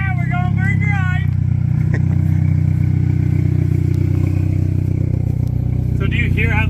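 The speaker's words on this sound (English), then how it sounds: "We're going for a drive." A project car's engine runs loud and close on a drive, with a steady heavy low rumble and a droning tone throughout. A cage and fuel cell are fitted. Voices talk over it briefly at the start and end.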